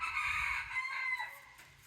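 A rooster crows once in a long, strained call at a chicken coop, sounding somewhat distant against a quiet outdoor background.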